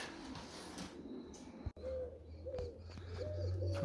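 Pigeons coo in soft, repeated low phrases with some chirps, close by and fairly quiet, over steady outdoor background noise and a single sharp click midway.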